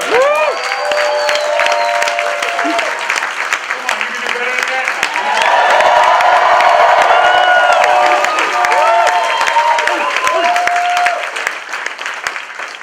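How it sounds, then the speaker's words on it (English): A large audience at a leadership summit applauds and cheers loudly, with whoops and shouts rising to a peak mid-way, while someone speaks over the noise. "Give him another round of applause."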